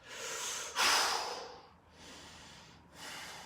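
Heavy breathing from people during a workout: loud rasping exhales and snorting breaths close by, in several surges with a short lull between them.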